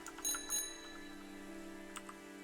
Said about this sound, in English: I can ring the bell.